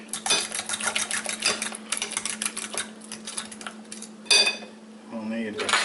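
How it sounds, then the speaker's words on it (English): A fork rapidly beats an egg in a bowl for banana bread, giving a fast run of light metallic clicks and taps against the dish, fairly close, with a brief louder clatter near the end. "We'll need a fork to beat that egg."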